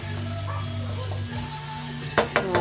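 Garlic and fresh carrots fry in a pan for fried rice, a steady close sizzle under a low background hum, ending with a few clattering stirs or scrapes.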